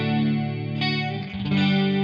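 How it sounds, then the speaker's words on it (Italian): Electric guitar through a ToneX chorus effect, ringing distorted chords with a thick, wavering modulation, changing chords partway through, and no voices. "andiamo sul chorus e si sente un po' meglio"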